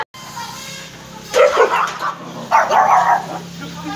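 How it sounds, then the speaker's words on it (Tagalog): Belgian Malinois dogs barking loudly and close by during a breeding session, two long bursts of overlapping barks and yips following a quiet opening. "Ang daming aso."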